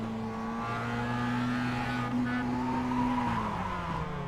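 Mazda MX-5 racing around Okayama circuit in a sim racing game, its engine holding steady tones with pitch steps from gear changes and a tire squeal near the end, continuous and fairly loud.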